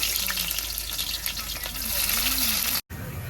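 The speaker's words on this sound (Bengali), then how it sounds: "কালো জিরে দিয়ে দিয়েছি এবার পেঁয়াজটা দিয়ে দেব" Sliced onion fries in hot oil seasoned with black cumin seeds, a steady close sizzle and crackle that runs continuously before a brief cut near the end.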